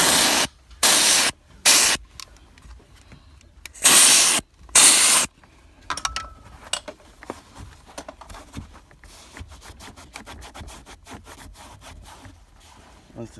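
A steam cleaner works over grime in a car interior, firing several loud, close hissing bursts of about half a second each in quick succession. Quieter rubbing and scrubbing follows.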